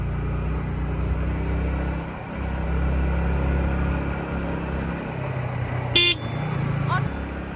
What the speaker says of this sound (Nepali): हरन त हामीले मार्नै पर्ने हुन्छ यस्तो बाटोमा